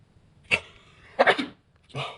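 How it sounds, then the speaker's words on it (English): A girl sneezes during a Covid-19 nasal swab test: three short, sharp bursts sound close by with brief gaps between them. "My nose is so ticklish. I'm going to sneeze."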